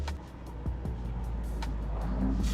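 A Ferrari sits close by with its engine running as a steady, low rumbling drone, and a few faint clicks ride over the hum.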